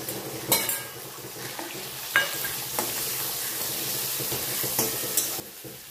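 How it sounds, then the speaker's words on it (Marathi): Onions fry for poha in a pan, a steady bright sizzle running throughout, broken by several sharp clinks and scrapes of a spoon stirring against the metal. "नंतर कांदा टाकून घ्यायचा आहे."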